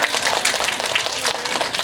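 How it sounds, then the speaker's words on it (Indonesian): Audience applause at a madrasah parenting and program outreach gathering, a steady burst of many hands clapping together, loud and close, lasting the whole short moment without speech. "Tepuk tangan"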